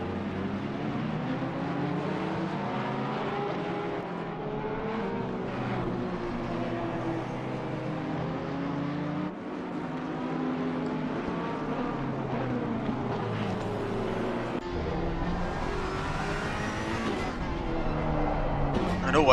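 Race cars in the Assetto Corsa Competizione sim at the Nürburgring, including a Ferrari running wide, produce a continuous layered engine whine that rises and falls through gear changes under steady commentary.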